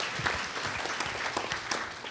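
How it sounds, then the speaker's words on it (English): Audience applause at a Craigslist boot camp closing panel, a dense wash of clapping from many hands, steady and fairly close for its whole length. "Give yourselves a round of applause for making it all the way to now."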